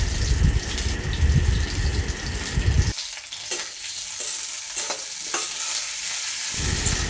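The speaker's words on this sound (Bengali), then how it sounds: "এখন ভালো করে আমি পেঁয়াজ কাঁচামরিচটাকে ভেজে নিব।" Chopped onion and green chilies frying in a pan for bitter gourd and potato, a dense loud hiss at first that thins into a softer sizzle with occasional stirring clinks.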